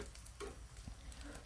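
Vegan ribs deep-frying fully submerged in hot oil give off a continuous soft crackling sizzle with faint pops, low in level and without talk.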